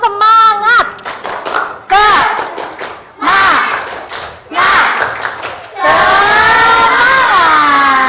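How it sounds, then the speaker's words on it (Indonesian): A school science class in Indonesia does a rhythmic spirit clap, with bursts of hand claps and group chanting. Voices shout together in short loud phrases, and a sustained group cheer closes the clip. "semangat ya, tepuk semangat."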